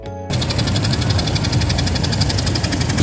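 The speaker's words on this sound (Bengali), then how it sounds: "অন্যান্য বোট সহ আমাদের বোটও চলল সমস্ত ঘাট ঘুরিয়ে দেখানোর জন্য" Boat engine running on the Ganges at Varanasi, a steady close chugging drone that kicks in after a brief quiet start and holds with a regular knocking pulse throughout.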